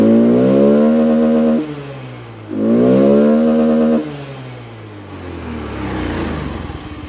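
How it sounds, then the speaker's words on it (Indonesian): A Honda Scoopy FI scooter engine revs twice as the throttle lever is pulled, each rise a loud steady drone held for over a second before falling back to a rough idle, heard up close. "perhatikan kita tarik ya untuk tuas gasnya"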